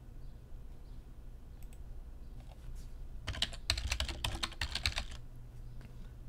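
A folder name is typed on a computer keyboard: a quick, close run of crisp key clicks in the middle of a quiet room, with a few scattered taps before it.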